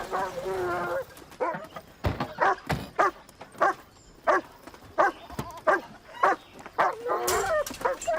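A dog barks repeatedly in short, sharp bursts at an irregular rhythm, close and loud, with a voice heard at the start and around the barks.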